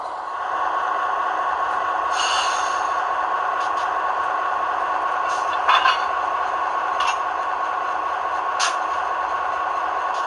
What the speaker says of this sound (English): Got some of the air brake sounds, couple sounds.